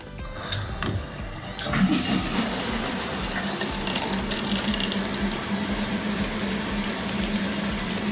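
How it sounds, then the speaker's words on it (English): Water gushes from a newly installed shower head, starting with a few clanks, then a loud, steady spray that runs continuously with no talking. "pop up in our shower and see if we get any leaks"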